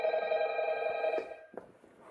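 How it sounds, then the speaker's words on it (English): An office telephone rings in the Five Nights at Freddy's video game, a pulsing electronic bell tone that stops abruptly, followed by a couple of faint clicks. "Another phone call?"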